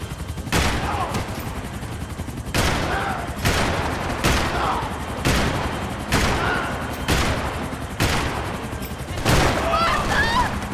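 Gunfire in the video game Max Payne 3: loud bursts of rapid shots repeat every second or two, each a sharp crack that rings out before the next volley.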